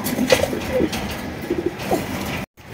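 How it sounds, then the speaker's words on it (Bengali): Pigeons coo repeatedly up close, soft throaty calls in short rhythmic phrases with no talk. "6-7 ঘন্টা ওড়ার কবুতর মাদি"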